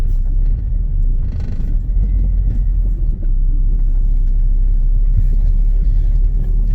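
A car's engine keeps running with a low, steady rumble heard from inside the vehicle on a drive cycle after storage, with the RPMs varied slowly and loud road noise throughout.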